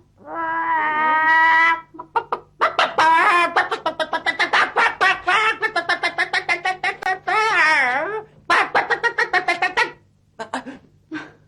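A person imitates a chicken clucking up close and loudly, with a long strained squawk followed by rapid, rhythmic bursts of vocal clucks and a few warbling rises.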